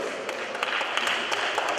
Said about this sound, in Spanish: Aplaudimos nosotros a vosotros.